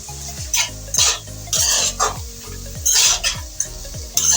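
Carrot halwa stirred in a pan at home, with a spoon scraping the metal in repeated strokes, roughly one every half second, over a soft steady sizzle, close and fairly loud with no voices.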